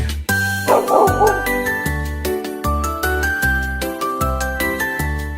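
A cartoon dog barking in a children's song, short rhythmic yips and woofs set over a bouncy musical backing with steady beats.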